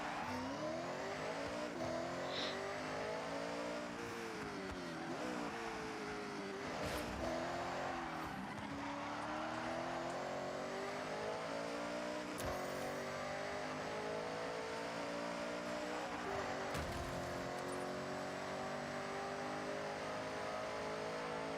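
A Toyota Supra Mark IV RZ in Forza Horizon 6 revs up and down through repeated gear changes, tires squealing and skidding at several points, loud and close throughout with no talking.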